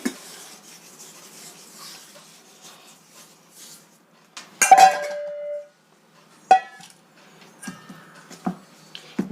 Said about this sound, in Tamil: நம்ம மாவை இந்த மாதிரி நல்லா நம்ம இடித்து எடுத்துக்கலாம்